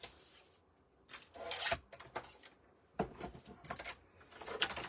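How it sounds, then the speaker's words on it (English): Paper being trimmed for a handmade book, heard as several close, dry rasping strokes of a cutter or blade drawn along the sheet, in short bursts separated by quiet pauses. "and trim that off."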